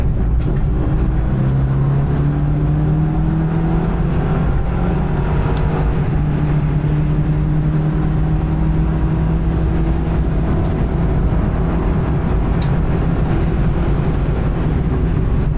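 BMW G42 racecar on a Nürburgring Nordschleife track day, a continuous engine drone with rising and falling pitch through gear changes, close and loud, with road and wind roar throughout and no talk.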